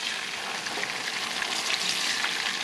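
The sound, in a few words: tortillas frying in oil for red enchiladas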